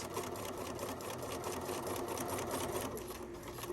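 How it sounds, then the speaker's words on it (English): Sewing machine stitching steadily along the edge of a drawstring bag, a continuous close mechanical whir with rapid needle rhythm and no pauses. "We're going to sew all the way to the end."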